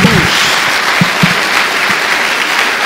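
A church congregation claps for the Lord after a Portuguese sermon, dense steady applause filling the whole stretch with a few louder individual claps standing out, loud and close.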